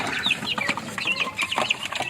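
Backyard rooster and hens cluck and chatter continuously close by, a busy run of short overlapping clucks and calls with no talking.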